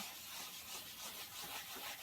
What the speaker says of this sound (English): like I'm wet sanding it